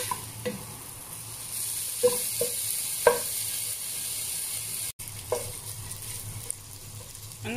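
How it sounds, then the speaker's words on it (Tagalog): Pork belly sautéing in a pan, a soft continuous sizzle close by broken by occasional scraping stirs of a utensil against the pan. "Gigisa lang natin to hanggang sa lumambot ang ating pork belly."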